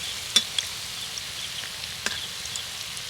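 Potato and flattened rice snacks frying in oil, a soft continuous sizzle with a few faint clicks of a utensil turning the pieces.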